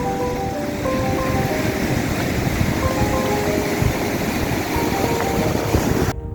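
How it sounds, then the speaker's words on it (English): Steady, loud rush of a waterfall on an Alpine hike below the Eiger North Face in Switzerland, a dense continuous roar with no voices and no breaks until an abrupt cut at the end. "you can see now it actually becomes a slightly bigger waterfall"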